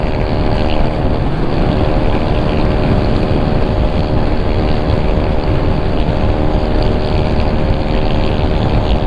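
A Yamaha Mio i 125 scooter runs fast on a night ride on the Marilaque road, its engine droning loud and steady with strong wind rush throughout and no pauses.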